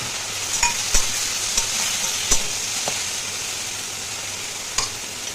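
Chopped onion, garlic, green chili, ginger and tomato sizzle in a pan, a moderate frying hiss punctuated by several sharp scrapes and taps of a spatula, with no voices.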